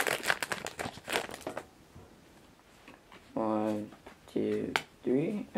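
Quick, close crinkling and tearing of a trading card booster pack's foil wrapper, torn open fast in bursts, followed by a person talking over it.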